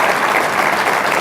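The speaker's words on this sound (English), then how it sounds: "So let's give him a great round of applause." Loud, dense applause from an audience at an annual meeting: a continuous wash of many hands clapping close by, with no break over a short stretch.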